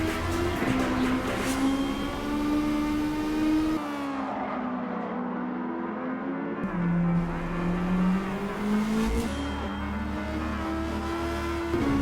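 Race cars in Gran Turismo 7 roar around the track as a steady, loud engine drone, with pitch rising and falling through gear changes and a brief dip before the engine note climbs again, with no talking.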